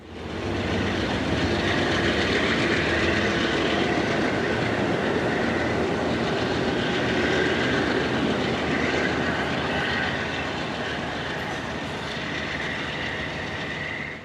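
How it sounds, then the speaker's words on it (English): Amtrak train 56 passes northbound on the Conn River line in New England, a loud, steady rumble of engine and wheels that holds through the whole stretch and eases slightly near the end. "Amtrak 56 is heading north up the Conn River line"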